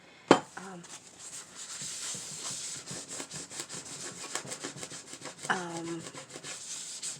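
A cloth rubs back and forth across a craft mat cleaned with diluted Thieves essential oil cleaner, a close, soft rhythmic scrubbing with a couple of sharper knocks, while someone talks over it.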